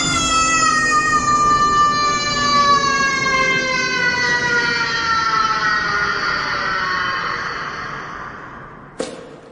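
Ambulance siren in a dark Scottish crime radio drama, a loud wailing tone gliding slowly downward as if passing and receding, ending in an abrupt click.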